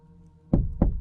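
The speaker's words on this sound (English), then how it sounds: "He's literally knocking on my truck." Two dull, heavy knocks land on the locked back door of a pickup truck's canopy, close by and about a third of a second apart, with no talking.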